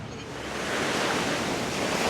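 Waves washing onto a warm Mediterranean beach near Alicante, Spain, at night, a broad steady rush of surf that swells slightly, with some wind noise and no voices.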